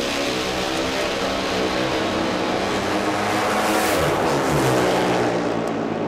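Pro Stock Motorcycle drag racing run at the 2011 NHRA AAA of Southern California Finals qualifying, a loud, sustained high-revving engine roar with no talk over it.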